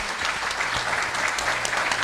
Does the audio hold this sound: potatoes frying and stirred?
no